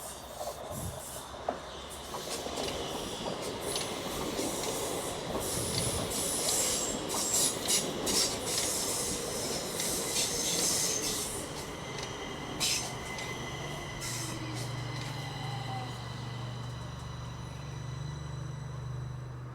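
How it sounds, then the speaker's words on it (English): A metro train rolls into a platform, wheels rumbling and squealing with rhythmic clacks, then settling into a low hum as it slows. "Oh, here comes another train."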